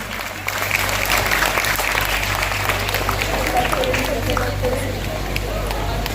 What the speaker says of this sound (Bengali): হাততালি তো